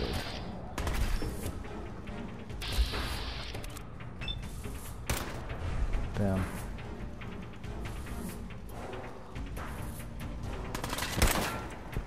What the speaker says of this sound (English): So they have a machine gun.